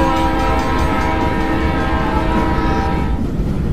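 A fast train travelling at night, heard as a loud, continuous rumble with steady horn-like tones over a dense low roar, sustained and close throughout.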